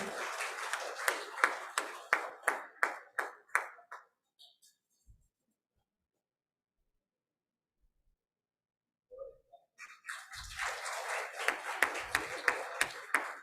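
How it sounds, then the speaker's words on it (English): Audience clapping at an inauguration ceremony comes in two passages: a few seconds of rhythmic, fairly sparse claps that fade out, a long silent gap, then clapping resumes fuller and steady near the close. "I'd like to request the audience to join hands and applaud this beautiful moment."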